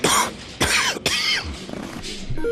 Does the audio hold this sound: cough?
yes